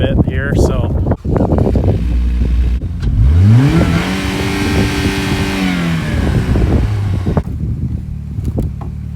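A fire-damaged car engine cranks, catches and revs up, the pitch climbing and then holding before settling, loud and close, with wind buffeting the microphone and people talking around it.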